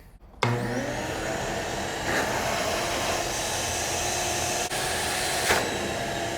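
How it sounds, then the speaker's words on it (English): A shop vac switches on abruptly and roars steadily, sucking debris out of a 1979 Ford Courier 4x4 truck, with a loud, continuous whine that holds close and constant for several seconds. "I may try to just shop vac this stuff out."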